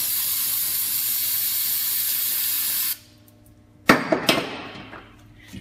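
A long, steady hiss of brake cleaner sprayed close up on a Ford Escape front brake for about three seconds, stops, then two short sharp bursts follow.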